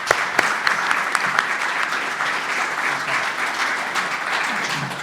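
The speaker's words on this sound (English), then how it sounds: "So big round of applause." A conference audience breaks into dense, sustained applause, loud and continuous for several seconds, with scattered sharper claps standing out near the start.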